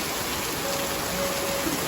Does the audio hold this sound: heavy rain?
yes